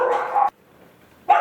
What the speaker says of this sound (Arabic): المكان اللي احنا دخلنا فيه في البيت ده اللي فيه الكلاب العواجيز او الكلاب اللي عندها يعني اعاقات شديده شويه